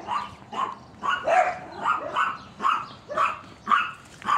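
A dog gives a steady series of about eight high, whiny yips and barks, evenly spaced and fairly close, with a plaintive, whimpering edge to each cry.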